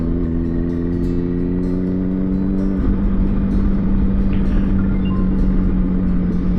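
A motorcycle fitted with loud Delkevic exhaust cans runs close by with a steady droning engine note that holds at one pitch, then drops and settles lower partway through, with wind buffeting over it.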